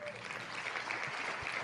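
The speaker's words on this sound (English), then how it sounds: "Round of applause there as well." A canned applause sound effect plays during a football draft show, a steady, faint wash of clapping with voices talking over it.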